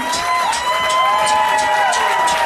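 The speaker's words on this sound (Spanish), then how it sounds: "Muchas gracias por aplausos tan preciosos" Audience at a live stage show for the Municipalidad de Bellavista claps and cheers, with a sustained wash of applause and whoops, steady and loud throughout, with a voice or tones riding over the crowd.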